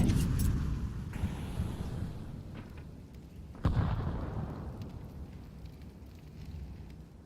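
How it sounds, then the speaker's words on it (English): A Molotov incendiary lands in Counter-Strike, giving a faint crackling whoosh of spreading flame with a sudden soft burst midway, then a steady low burning roar under a busy match soundscape. "Molotov to gain some space"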